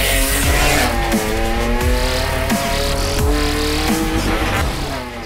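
A 550 horsepower race-built minivan at Pikes Peak accelerating hard, its engine note climbing through gear changes in a loud, continuous roar with some tire noise, no voices.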